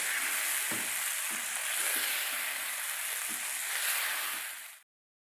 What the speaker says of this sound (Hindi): 1-2 मिनट के लिए इसे भूनेंगे हाई फ्लेम पे